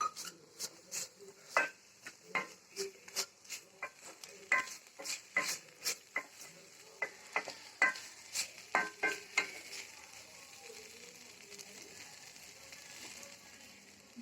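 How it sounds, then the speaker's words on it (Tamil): Thuthuvalai leaves sautéed with grated coconut in a pan: a fast run of sharp spatula clicks and scrapes against the metal over a soft sizzle, close and moderately quiet, easing into a steady hiss toward the end. "இப்போ இது கூட நம்ம எடுத்து வச்ச தேங்காயும் ஆட் பண்ணி நல்லா வதக்கிக்கலாம்."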